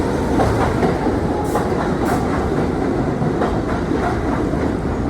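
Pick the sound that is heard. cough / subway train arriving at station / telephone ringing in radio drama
subway train arriving at station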